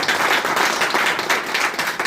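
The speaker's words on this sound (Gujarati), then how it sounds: "જોરદાર તાળી વાગી" A crowd gives a burst of enthusiastic applause, dense overlapping clapping that stays loud and steady for the full two seconds, with no speech over it.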